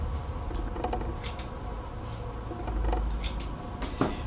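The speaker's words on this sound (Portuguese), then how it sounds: "Você vai cortar 4 pedaços médios, mais ou menos desse tamanho aqui." Scissors snip through drywall mesh tape in a few light, irregular cuts, with soft handling rustle and small clicks close by.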